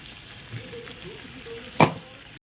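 Onion, garlic and masala paste frying in oil in a home kitchen pan, a low steady sizzle with a brief louder stir burst near the end.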